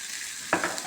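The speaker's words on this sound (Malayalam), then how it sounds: "ഈ ടൊമാറ്റോയും ചേർത്തിട്ട് നന്നായിട്ടൊന്ന് ഫ്രൈ ചെയ്യട്ടെ." Tomatoes fry in a pan with a steady, bright sizzle, interrupted halfway by a couple of brief, close stirring scrapes.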